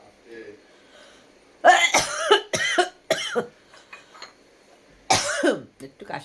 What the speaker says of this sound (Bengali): একটু কাশি